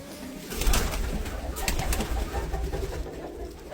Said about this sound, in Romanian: Voiam să vă spun că tata are un porumbel din anul 2015.